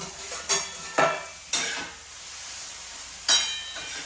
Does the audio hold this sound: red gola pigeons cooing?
no